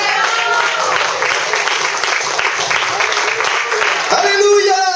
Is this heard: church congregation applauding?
yes